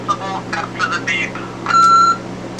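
A single electronic answering-machine beep from a Record-O-Fone, a steady tone lasting about half a second near the end, with brief talk-like sounds just before it.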